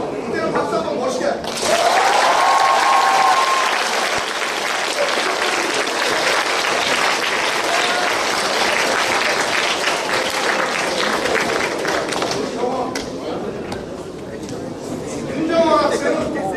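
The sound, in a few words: applause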